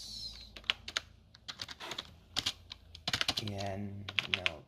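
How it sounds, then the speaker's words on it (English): Rapid typing on a computer keyboard, entering a translation command for a Discord bot, with quick irregular key clicks and clacks in short bursts, close and crisp, with a voice speaking in the background. "To set it up, you can just type the translation command like this."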